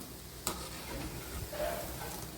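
Sweet and salty snacks deep-frying and puffing up in hot oil, giving a faint, steady sizzle with a single sharp tick partway through.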